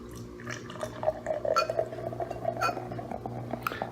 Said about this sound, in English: let's give it an aggressive pour like I always do.